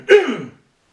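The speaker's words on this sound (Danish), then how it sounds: "Jeg hoster lige en gang." A single short throat clearing, a close raspy cough-like burst lasting about half a second before silence.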